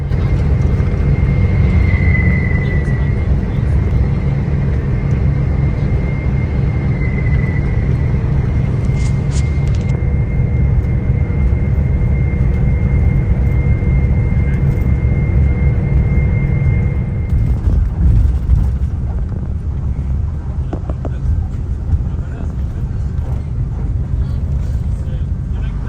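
An AKAS Mila Sejahtera intercity bus speeds along a toll road between Yogyakarta and Surabaya at over 100 km/h, heard from inside as a loud, constant engine and road roar with a steady rumble throughout.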